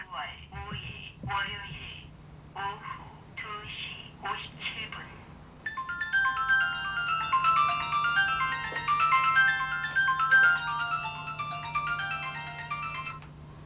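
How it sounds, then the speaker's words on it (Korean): A mobile phone alarm starts partway through, a bright, repeating electronic melody that plays loud and close after a stretch of talking. "휴대전화에서 알람이 울리자 알람 내용을 확인하고는 누군가에게 전화를 건다."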